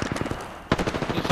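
Rapid bursts of automatic gunfire from an Apex Legends match, loud and close, with a sharper, denser volley breaking in partway through and continuing to the end.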